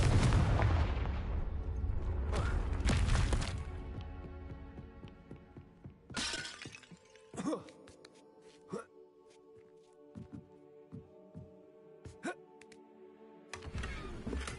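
Confringo spell blasts in Hogwarts Legacy: a loud rumbling explosion opens, a second burst lands around six seconds, and sharp magical cracks and impacts scatter through the rest over quieter chiming ambience.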